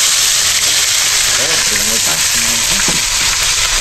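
Fish frying in hot oil gives a loud, steady, close sizzle and crackle that never lets up, with someone talking over it.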